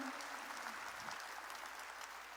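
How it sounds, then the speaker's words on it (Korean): Congregation applauding during a church worship service, a steady wash of many hands clapping at once that fills the whole moment without pause. "박수로 하나님께 영광을 돌려가지고"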